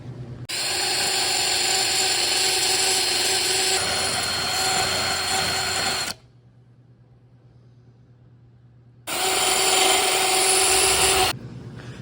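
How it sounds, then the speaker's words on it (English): A high-pitched air tool driven by a drill whines loudly as it grinds fairway mower parts in a long steady run, stops for a few seconds, then grinds again briefly. "It's an air tool, but it's going to work on a drill."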